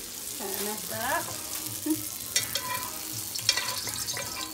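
Flattened bara dough for Trini doubles dropped into hot oil, with a steady close sizzle of frying, soft stirring and handling clatter, and a voice speaking briefly over it.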